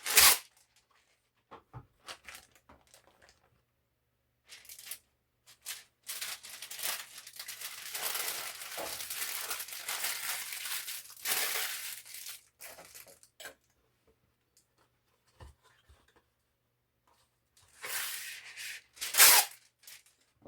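Wax paper being crinkled and crumpled in a home kitchen, bursts of crisp rustling that swell into a long crackling stretch, then trail off into brief rustles and a final sharp crinkle, close up.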